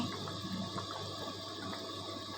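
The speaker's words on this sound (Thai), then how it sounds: "เดือดเดือดเดือดเดือด ใกล้จะสุกแล้วนะจ้า" A pot of southern Thai spicy chicken and pumpkin curry boils, giving a soft, continuous bubbling and watery churn at low volume with no talking.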